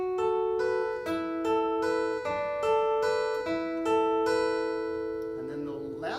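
Steady acoustic guitar fingerpicking of a song, a repeating picked pattern of bright ringing notes over a sustained lower string, close and even, fading at the end.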